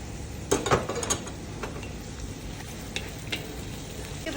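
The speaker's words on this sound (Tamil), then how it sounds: "இஞ்சி வெங்காயம் நல்லா வதங்கிடுச்சு" Ginger and onion fry in a pan, a close, moderate sizzle broken by a few sharp utensil clinks and scrapes early on, then steady quieter frying with no talk.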